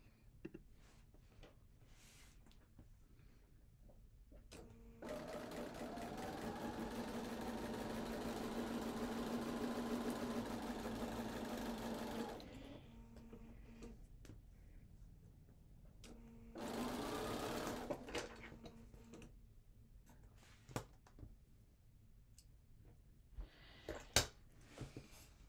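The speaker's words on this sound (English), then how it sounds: "And I'm gonna sew that just like I did before." Sewing machine stitching quilt fabric runs in two bursts, a long steady mechanical hum with rapid needle chatter followed by a shorter run, with quiet handling clicks and rustles around them.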